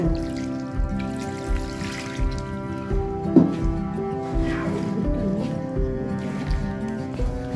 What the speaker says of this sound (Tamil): தண்ணி ஊற்றிக்கணும்.